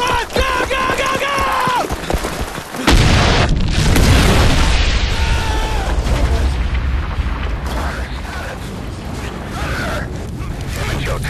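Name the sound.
bomb explosion in the video game Ghost Recon Future Soldier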